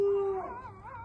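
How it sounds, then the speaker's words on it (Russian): Newborn puppies tucked under a cover in cold weather give a sustained high squeal that breaks into wavering, whimpering whines, close by and fairly quiet, with no talking. "Пищат, визжат."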